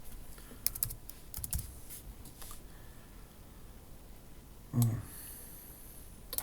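Light typing on a computer keyboard, with scattered quick clicks and short bursts of keystrokes at close range, quiet and without speech, plus a brief soft thump partway through.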